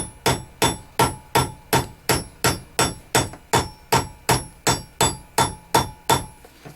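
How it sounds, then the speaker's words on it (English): A hammer strikes metal to flatten it, about seventeen loud, ringing blows in a steady, even rhythm, close and with no other sound. "Now, take your hammer, start flattening."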